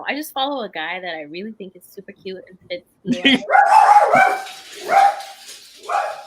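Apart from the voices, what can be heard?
dog barking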